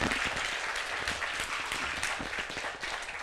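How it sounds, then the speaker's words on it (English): An audience at the Commit Your Code conference in the Yellow Room applauds, with dense, continuous clapping filling the room at full strength from start to finish, close and lively. "Can we give a round of applause for everyone?"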